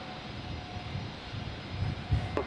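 Engines of a Qantas jet airliner idle at Brisbane Airport before takeoff, a steady distant whine and low rumble with a few faint thumps.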